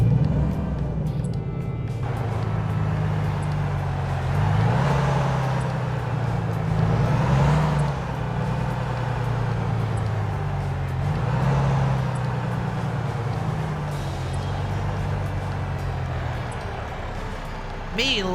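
A truck engine in American Truck Simulator drones steadily at a low pitch, rising and falling gently with throttle as a person talks over it.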